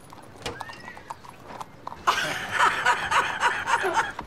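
A horse nearby, first with a few hoof clops, then a long whinny that rises over steady clip-clopping hooves on hard ground, with faint voices and laughter mixed in.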